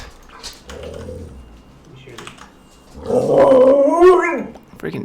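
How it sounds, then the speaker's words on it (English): Dogs bark and growl in the background during a livestreamed Python lesson, muffled at first and then louder and harsher, with rapid keyboard typing and someone talking alongside. "Freaking dogs."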